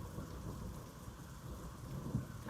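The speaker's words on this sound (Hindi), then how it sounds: "तो यहाँ पे हो रही है बारिश, मौसम बड़ा अच्छा है।" Steady rain falls outdoors in a continuous, close, even hiss with a low rumbling bed beneath and no voices.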